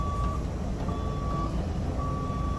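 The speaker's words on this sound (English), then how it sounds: "It has a reverse beep." Steady high-pitched reversing beeps from a shuttle bus repeat at an even pace over a low engine rumble.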